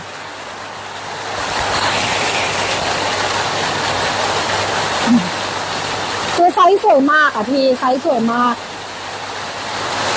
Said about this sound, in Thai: เสียงฝนนะคะที่ดังอยู่นี่เสียงฝนนะ